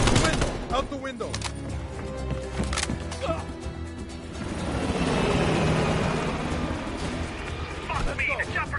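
A Call of Duty Cold War helicopter escaping from a rooftop amid heavy gunfire: sharp shots and bursts up front, then a broad rushing rotor and engine roar swelling in the middle, with voices shouting over it.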